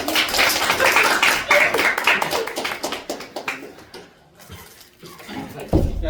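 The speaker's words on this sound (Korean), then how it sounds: "아까 들어올 때 박수를 한번 쳐주죠." Students clapping in a classroom: a burst of many hands clapping together, loud and close, for a few seconds before it fades out, followed by brief quieter movement and a renewed noise at the end.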